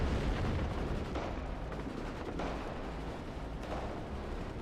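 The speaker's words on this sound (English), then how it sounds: "Mortar's coming in." Mortar and artillery fire in the Cold War strategy game WARNO: a continuous rumbling barrage of booms and blasts, fairly loud and steady throughout, with no speech.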